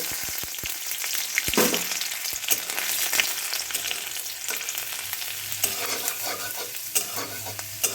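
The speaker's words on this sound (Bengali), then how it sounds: "এবার রসুনটাকে ভেজে নেব" Garlic frying in a pan for a Bangladeshi dried-fish bhorta, a loud continuous sizzle close by with a few sharp pops and stirring knocks early on, no voices.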